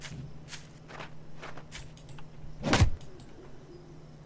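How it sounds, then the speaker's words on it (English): Footsteps of a zombie walking around inside a house in the zombie video game Night of the Dead, a series of soft, evenly spaced thuds, then one heavier, louder step, over a low steady hum. "I can hear somebody walking around inside it."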